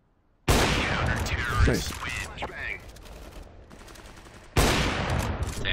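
Rapid gunfire bursts from Counter-Strike: Global Offensive, loud and dense at the start and again near the end with a quieter stretch between, while players talk over it.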